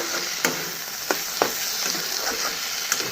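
Pointed gourd fries in a pan, a steady close sizzle broken by several sharp scrapes and knocks from stirring, no voices.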